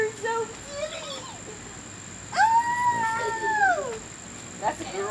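A cat meows several times, one long drawn-out cry in the middle and shorter ones around it, close by with a steady high hum behind.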